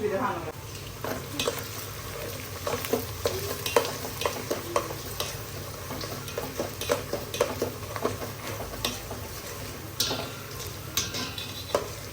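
Onion, ginger and garlic frying in a pan while being stirred, with the spatula scraping and clinking steadily against the pan over a constant sizzle, close and fairly loud, no talk.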